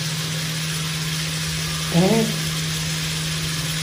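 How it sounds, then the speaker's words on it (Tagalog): A brief burst of sizzling as aromatics hit a hot pan for ginataang sitaw at kalabasa, with a short rising fry around the midpoint over a steady background hum. "gigisa ko lang"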